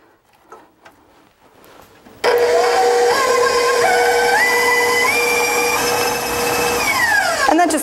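After a quiet start with a few soft knocks, an electric mixer beating tart filling switches on loudly and whines at a steady medium-high speed. Its pitch rises in steps, then winds down near the end.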